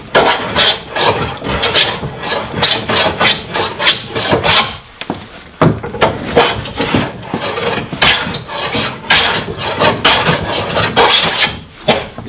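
Wooden trying plane shaving a board by hand, a steady series of long rasping strokes with short pauses between, close and loud with no talk.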